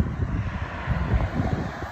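Wind gusts outdoors at the Scripps Institution of Oceanography in San Diego on a sunny day, buffeting the microphone with a steady low rumble and uneven swells, with no voices.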